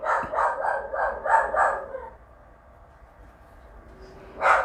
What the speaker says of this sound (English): If y'all hear my dogs, you know the deal.